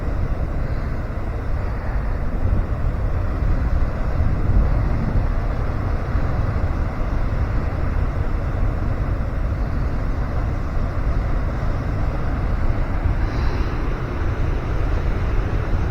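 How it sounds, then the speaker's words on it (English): Sea waves roll into a harbour on the coast at Cullen and Portknockie, a steady, continuous wash of surf mixed with wind rumble that stays at an even loudness throughout. "The waves coming in there."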